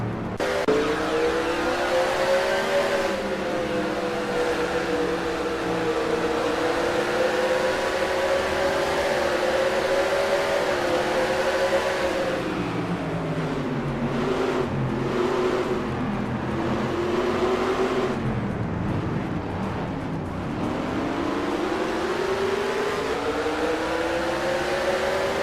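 A race car engine at Evergreen Speedway in Monroe, captured from an in-car camera, drones loudly and continuously for the whole stretch, its pitch rising and falling as the driver accelerates, lifts and shifts through a restart.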